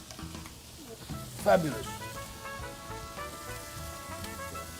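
Salmon searing in a hot pan, giving a continuous soft sizzle close by, while someone says a single word partway through.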